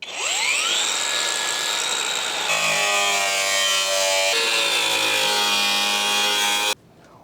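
A Saab 900 Turbo body panel is cut by a power tool, a loud, close, continuous whine that shifts pitch partway through and stops abruptly near the end, with no voices.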